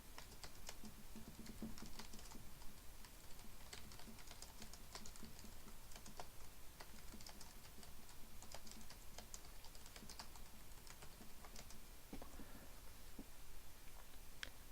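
Steady, close typing on a computer keyboard runs throughout at an even pace as a group description is entered, the dense key clicks continuing without pause and without any talking.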